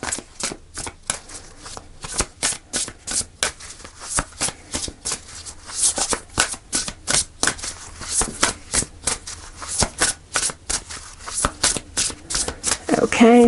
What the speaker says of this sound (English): Give it a couple more shuffles.